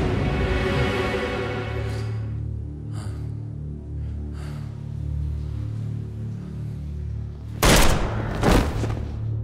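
Gunfire in a shootout scene from the historical TV drama Payitaht Sultan Abdulhamid, with a sharp burst of shots near the end over a low, tense musical score.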